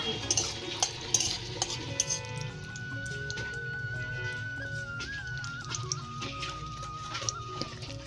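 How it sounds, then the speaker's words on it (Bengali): Cashews and raisins fry in a pan with a steady soft sizzle and occasional spoon scrapes and clicks, while a continuous tonal hum runs underneath. "কাজু কিশমিশটা আগে ভেজে নেব একটু"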